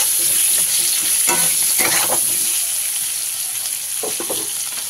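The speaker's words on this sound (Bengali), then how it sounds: "আলুর মধ্যে দিয়ে দিলাম হলুদ, লবণ, দিয়ে আলুটাকে খুব ভালোভাবে ভেজে নেব।" Potatoes with turmeric and salt fry in a pan for a mackerel curry, a steady loud sizzle running throughout with a few scraping stirs of a spatula, no voices.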